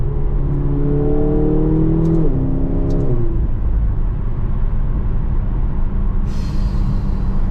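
A McLaren GT with a 620 hp engine, heard from inside while driving, gives a loud steady engine drone that climbs in pitch, briefly dips as if shifting, then settles into a continuous roar.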